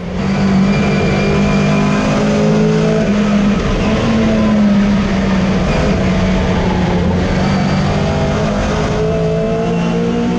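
A Mini Cooper S races hard around the Goodwood circuit in a close retro battle, its engine snarling loudly and steadily throughout with shifting revs and a hint of tyre squeal, no talk.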